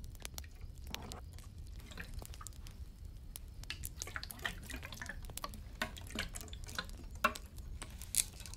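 Water dripping and being poured during a Spanish-language ASMR doctor roleplay, with close, irregular drips and small splashes and squishy wet sounds throughout, no talking.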